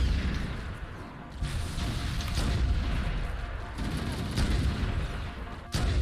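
Rifle fire in Halo: Combat Evolved, a sniper rifle cracking during co-op play, with dense booming shots and whooshing game effects stacked over a loud, continuous battle din, ending in a sharp report near the close.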